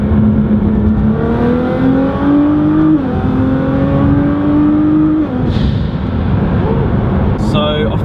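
Engine of an 800hp Nissan GTR revving loudly and close, its pitch rising and falling in long sweeps with a constant roar, heard from inside the car with no talking over it.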